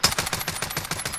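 A player's gun in Call of Duty: Warzone fires a rapid, steady automatic stream of roughly a dozen evenly spaced cracks in a single loud, continuous burst with no voices.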